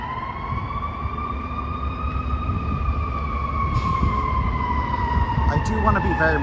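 A loud, steady siren wail rising slightly in pitch, mixed with low rumbling street traffic noise, on a downtown Chicago street.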